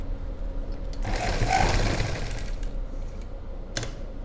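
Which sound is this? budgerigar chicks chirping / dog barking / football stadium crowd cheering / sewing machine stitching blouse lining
sewing machine stitching blouse lining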